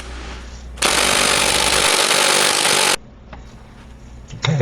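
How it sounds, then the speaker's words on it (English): Impact gun loosening the 12 mm axle shaft bolts on a Ford F150, one loud continuous rattling burst of about two seconds, close up, with quieter shop noise and small clanks before and after. "I'll be breaking that loose with my impact gun"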